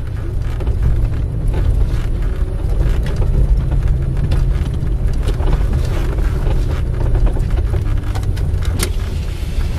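A car driving along a mountain road in the Karoo, heard as a steady engine and road rumble with wind buffeting the microphone and occasional knocks and rattles.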